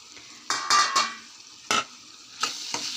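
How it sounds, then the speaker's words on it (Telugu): A spoon stirring tomatoes cooking in a pan for a tomato curry, giving several quick scraping clinks against the metal over a soft steady sizzle, close and alone without talk. "ఒకసారి కలిపి టమాటాలు బాగా మగ్గించుకోవాలి"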